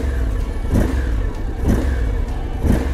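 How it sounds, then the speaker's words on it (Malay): A Honda X-ADV 750 adventure scooter's parallel twin engine idles close by with a low, thumping pulse, swelling roughly every second in an uneven rhythm. "itu bunyi thumping sound daripada engine parallel twin"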